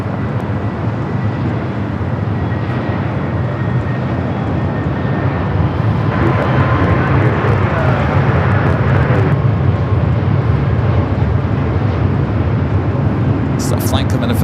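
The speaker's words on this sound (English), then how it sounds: "Delta A321 Neo." A Delta Airbus A321neo airliner arrives at LAX, a steady broadband jet roar filling the air at some distance while voices talk over it.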